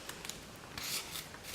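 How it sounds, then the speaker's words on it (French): Scissors snipping through fabric for a polystyrene jewellery holder, a few quick crisp cuts close by with soft rustling between, no talking. "avec la paire de ciseaux, nous coupons"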